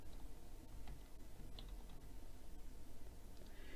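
Someone types a search on a computer keyboard, producing faint, scattered key clicks and taps at an uneven pace over a low background hum, with no speech.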